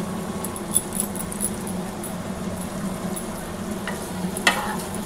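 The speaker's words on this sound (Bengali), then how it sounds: "এই অবস্থায় আমি ডিমের ঝুড়িটা আর ধনেপাতা কুচিগুলো দিয়ে দেব।" Scrambled egg and chopped coriander tipped into hot spiced oil for a dhaba-style egg tadka, giving a steady close sizzle with light stirring scrapes and a couple of brief clinks near the end, no voices.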